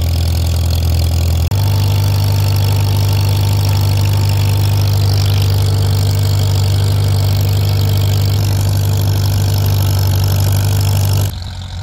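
A Farmall H tractor pulling a 1950s Grover Harrowgator harrow on a farm gives a loud, steady engine drone that deepens after a moment and then holds until it cuts off near the end.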